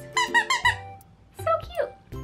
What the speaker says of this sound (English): each toy on the back has the Pride Bites logo, and that's where the squeaker is